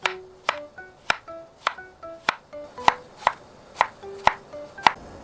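Knife chopping zucchini on a cutting board: about eleven crisp, evenly spaced taps over five seconds, close and clear, with no talking.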